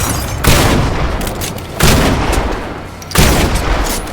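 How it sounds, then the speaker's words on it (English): Three loud, sharp gunshots from a .50 caliber sniper rifle in an online battle-royale shooter game, evenly spaced about 1.4 seconds apart, each a booming crack that fades slowly into a lingering rumble. "Looks like a nice 50 caliber sniper rifle there, and it certainly took them out like one."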